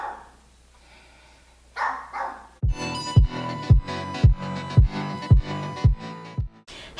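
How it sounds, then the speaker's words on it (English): A dog barks in a rapid, loud series of sharp, evenly spaced barks close by, after a few softer yips and whines at the start. "This dog is actually trying to give me a stroke."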